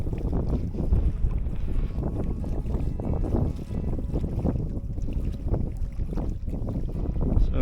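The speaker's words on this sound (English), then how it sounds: "Luckily the electric outboard has held up." Small boat driven by an electric outboard on a Scottish loch near Ullapool, a steady low rumble with water slapping against the hull and gusty wind buffeting close to the microphone, no voices.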